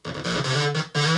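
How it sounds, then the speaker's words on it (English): Behringer TD-3-SR bass line synth, a TB-303 style unit, with distortion cranked to maximum: a loud, gritty, buzzing bass tone with two sustained notes, a brief dip and a renewed attack, alone and close. "let's just crank that distortion up to the gnarliest, nastiest sound we can get right there"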